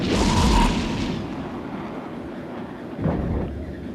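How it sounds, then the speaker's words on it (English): Ships exchanging weapon fire in a space battle in the mobile game EVE Echoes, with heavy booming blasts: a loud rumbling burst at the start, a steady low drone, then another thud near the end. "They're shooting at me from time to time"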